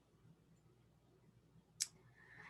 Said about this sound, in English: And then continue on clicking.